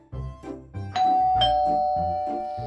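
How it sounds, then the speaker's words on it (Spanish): A doorbell in a Halloween trick-or-treat video game rings a clear two-tone ding-dong chime, repeated over a light rhythmic musical backing, loud and close. "¡Oh! ¡Un timbre!"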